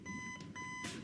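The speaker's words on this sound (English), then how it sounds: "A beeping alarm clock." Electronic alarm clock from the video game FNAF 4, beeping in short repeated tonal bursts at a quiet level with no voices.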